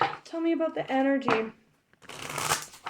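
Tarot cards being shuffled give a quick riffling burst near the end, after someone speaks, with lighter card rustles under her voice earlier.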